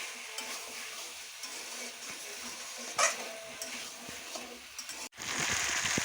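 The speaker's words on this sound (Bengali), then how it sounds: "তো এদিকে মাংস রান্না করছি মাংস কষাচ্ছি" Meat sautés in a pan at home for a rice-and-meat dinner, giving a steady close sizzle with scraping stirs and a louder hiss near the end; no one speaks.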